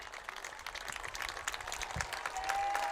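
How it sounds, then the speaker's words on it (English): Crowd applause at a varsity high school baseball championship game, dense scattered clapping from the stands that builds steadily, with no voices over it. "we're getting some applause here from the crowd, looking for a strikeout"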